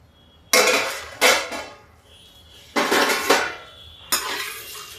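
A metal lid clanks onto a pan of crisp-frying okra (ladies finger) in a home kitchen: four sharp, close metallic knocks spaced a second or so apart, each ringing briefly, with no talking.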